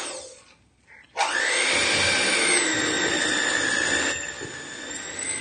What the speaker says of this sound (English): Then you're going to take an electric mixer